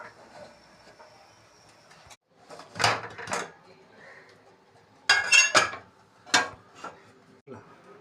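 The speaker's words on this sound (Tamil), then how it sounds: "மூடி போட்டுடலாம்." A lid goes onto a pot of boiling masala rice: several metallic clanks and rattles in clusters with quiet gaps between them, and no speech.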